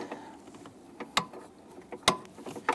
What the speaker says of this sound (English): Get that gear wrench in there. We'll go ahead and snug that down.